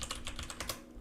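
Quick, close keystrokes on a computer keyboard, tapped in an uneven rhythm of short bursts with brief pauses, clear and alone with no voices.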